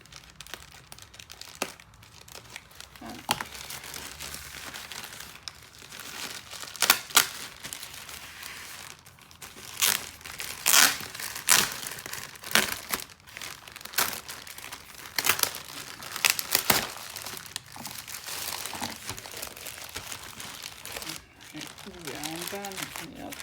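Plastic packaging of cross-stitch clips being opened by hand: intermittent crinkling and tearing rustles, close and moderately loud, in irregular bursts over a quiet room.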